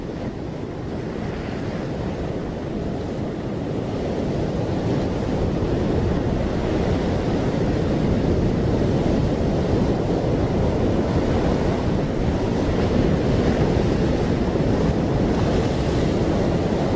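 Simulated rushing ocean water and wind, a continuous loud roar of surf with gusting wind noise that swells slightly and holds steady throughout, with no voices.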